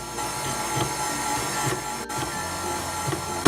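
An electric mixer whizzing sticky date pudding batter as eggs are added, a continuous close mechanical whir with rhythmic rattling pulses and a brief drop midway.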